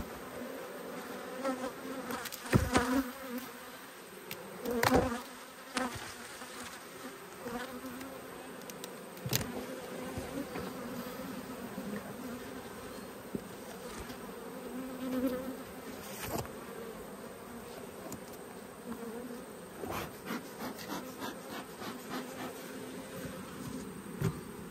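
Honey bees hum steadily from an opened hive brood nest, a close, continuous buzzing with occasional louder passes as individual bees fly near, punctuated by a few sharp knocks and clicks of hive handling.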